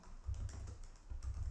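Code being typed on a computer keyboard for a Python web app, a short run of soft key taps with a couple of louder presses, close and quiet with no voices.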